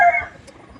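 A brief, close chicken cluck sounds once, then fades into quiet background noise.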